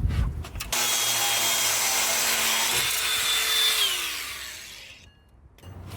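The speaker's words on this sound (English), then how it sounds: "I think what I'll do is actually cut the bottom of this bolt off." Power tool cutting the bottom off a bolt on a Ford Ranger during front suspension work, a loud steady high-pitched whine that starts abruptly, holds for several seconds, then winds down.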